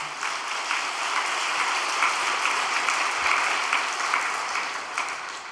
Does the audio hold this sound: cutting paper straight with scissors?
no